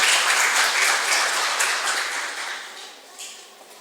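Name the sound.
audience applause welcoming a guest speaker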